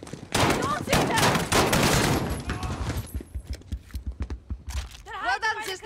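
Call of Duty Modern Warfare firefight during a warehouse ambush, a dense rapid fusillade of automatic gunfire followed by scattered individual shots, loud and close, with voices calling out.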